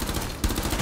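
Gunfire in Rainbow Six Siege: a dense, loud burst of rapid shots with a heavier thump midway, close and continuous for under a second, with no talk.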